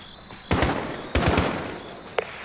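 Gunshots in Call of Duty: Modern Warfare, two sharp loud cracks about half a second apart, each with a low thump and a ringing tail, followed by a faint brief click, with no talking.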